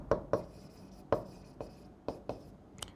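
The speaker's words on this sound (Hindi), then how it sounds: "सो हम यहाँ पर लिखेंगे" Chalk or marker taps and strokes on a lecture board, a series of sharp, irregular clicks and short scratches, close and fairly quiet, with no talking.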